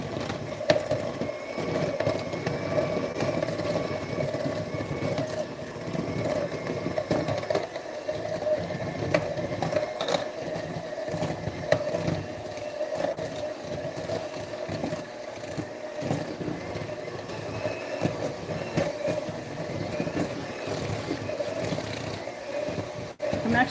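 A hand mixer whirs steadily through white chocolate chip cookie dough in a bowl, a continuous mid-pitched motor hum with bumping and scraping, lasting over twenty seconds.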